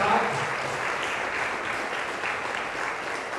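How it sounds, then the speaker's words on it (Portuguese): A church congregation applauds the performers of a Christmas cantata, a steady wash of many hands clapping together at moderate distance, sustained evenly throughout with no pause. "Eu queria pedir à igreja que desse uma salva de palmas para todos os nossos participantes da cantada."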